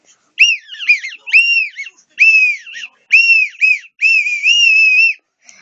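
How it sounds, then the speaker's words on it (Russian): A toy whistle gives a run of loud, close, warbling tonal blasts in about eight short bursts with brief gaps, some rising and falling in pitch, and no voices. "Но свистолет мой крутой. Я смотрю и свищу в него."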